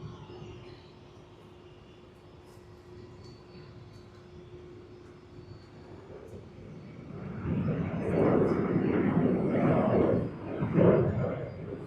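A Qantas Boeing 737 moves at Sydney Airport. Its jet engine roar starts as a distant low hum and swells into a louder rumbling rush toward the end of the clip.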